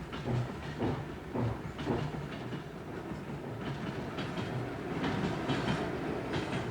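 A train rolls steadily along a track through the Tian Shan Mountains at about 10 km/h, with rhythmic clacking of wheels over rail joints and a continuous low rumble, fairly close.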